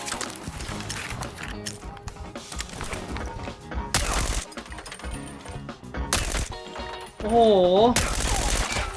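FAL rifle gunfire in the video game Arena Breakout, with loud bursts of rapid shots that break off and start again, mixed with game effects and a rising and falling electronic tone near the end.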